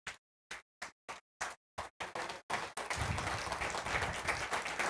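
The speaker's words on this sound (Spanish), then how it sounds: "denle un aplauso a Dios" Church congregation applauding during a Spanish-language service: a few separate sharp claps gather pace, then break into sustained, dense applause filling the room.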